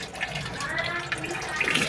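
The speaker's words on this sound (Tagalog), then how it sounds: "Papatayin yung tubig." Water runs steadily from a faucet during cleaning, a continuous close hiss and splash that persists throughout without a clear cutoff.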